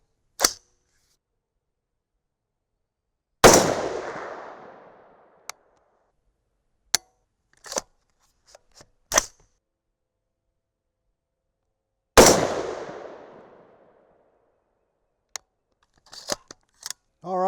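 An Aero Precision M5E1 AR-10 rifle fires a group of shots outdoors: two sharp, loud reports with decaying echoes, spaced several seconds apart, among scattered clicks and small mechanical handling noises.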